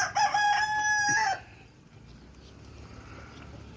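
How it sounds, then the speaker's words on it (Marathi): The largest rooster in a free-roaming village flock crows once, loud and close, for about a second and a half before fading into quiet outdoor ambience. "हा आमचा मोठा कोंबडा आहे"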